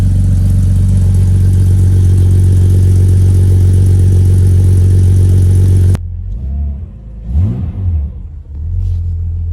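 Drift car engine running loud and steady with a deep droning rumble, then cutting abruptly to a lower idle with a couple of quick throttle blips and faint background noise, no speech.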